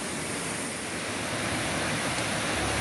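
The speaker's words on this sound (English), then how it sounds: "that's a waterfall in the background there" Harvalem Waterfalls in Goa sends up a steady, broadband rush of falling water, a continuous roar heard from a distance with no speech over it.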